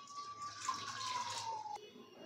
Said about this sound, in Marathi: तर आता ह्याच्यात शिजण्यासाठी पाणी टाकायचं आहे.